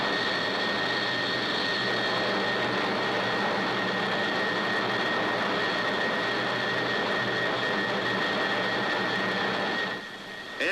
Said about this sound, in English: soon after M crit is exceeded, the aircraft starts to buffet violently